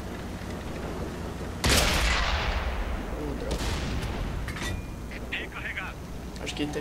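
A single heavy tank cannon boom in World of Tanks erupts suddenly, followed by a long rumbling tail, with fainter distant blasts and mechanical clanks afterward.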